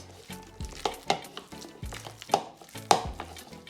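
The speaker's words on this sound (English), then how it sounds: "I'm going to mix in my mayonnaise inside of it." Mayonnaise being stirred into a Jamaican green banana salad, with a utensil clinking and scraping against the bowl in irregular sharp knocks over a soft, wet mixing sound, close and moderately loud.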